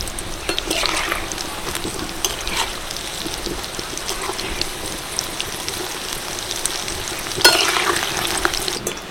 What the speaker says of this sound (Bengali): ওপর থেকে একটুখানি তেল ছিটিয়ে দিচ্ছি, এতে করে কিন্তু ওপরটাও সুন্দর ভাজা হয়ে যাবে।